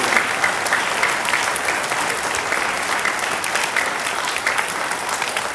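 Sustained, loud applause from an audience at a May 2022 awards ceremony for students, dense steady clapping throughout with little variation.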